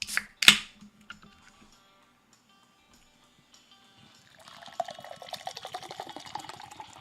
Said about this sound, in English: I poured it right into the glass after that